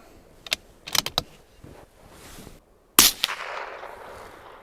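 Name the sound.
22LR Remington Yellow Jacket round being fired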